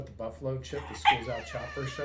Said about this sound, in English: that's my dog. He kind of wants a little bit of attention.